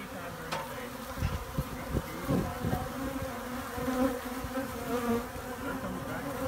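A close, dense buzzing of many bees in an attic hive hums steadily, with occasional louder passes and faint knocks underneath.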